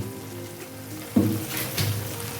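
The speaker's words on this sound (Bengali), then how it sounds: "আমি এটা নাড়িয়ে নেব এইভাবে মশলাটা" Ground cumin and coriander spice mix sizzles and is stirred in a hot pan for cauliflower and shrimp, with a couple of brief scraping bursts over a soft frying hiss.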